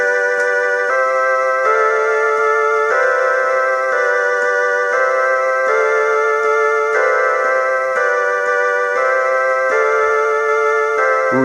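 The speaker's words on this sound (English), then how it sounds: "If you want a nice synth pop ballad, then cosmic tone is for you." Casio MT-68 home keyboard playing its cosmic tone preset, a bright buzzy 1980s synth voice, holding steady sustained chords that change in a regular stepped rhythm, loud and close with no talking.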